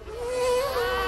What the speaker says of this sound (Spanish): Oye, cierra la boca que se te va a meter una mosca.